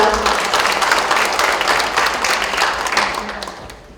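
Audience members at a book-launch talk concert applaud loudly with dense clapping, which tapers off toward the end.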